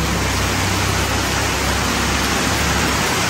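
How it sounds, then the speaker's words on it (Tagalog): Loud, dense rush of heavy rain pouring steadily in Kerala, India, a constant broadband hiss with no pauses and no voices. "Ang lakas ng ulan."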